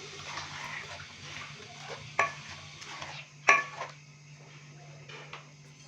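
A spoon stirs ground garam masala into chickpeas cooking in a pot, giving soft scraping with two sharp metallic clinks against the pot, all fairly quiet.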